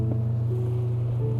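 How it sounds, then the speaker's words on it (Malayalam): Tour boat engine idling on the sea off Antarctica, a steady low rumbling drone with a faint higher whine joining partway, alone and close throughout the short clip. "എല്ലാവരും കയറി കഴിയുമ്പോൾ ഈ ബോട്ട് വിടും"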